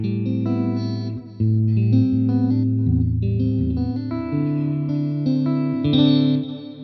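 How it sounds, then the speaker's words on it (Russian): An electric guitar plays a melodic line through a MOOER GE300 Lite processor with modulated delay, sustained notes wavering and echoing into one another, clear and prominent with no talking. "Я обычно люблю дилей с модуляцией, немножко больше фидбэка, чуть-чуть его побольше в миксе"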